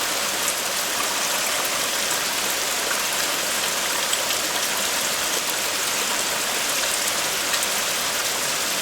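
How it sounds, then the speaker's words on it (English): Steady rain falls in an Alabama back yard, a dense even hiss of drops spattering on surfaces, constant and unbroken with no voices. "it's raining again in Alabama. It rains here all the time."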